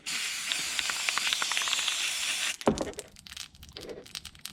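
An aerosol spray can gives a steady broadband hiss for a couple of seconds, then cuts off, followed by scattered clicks and softer rustling noises close by.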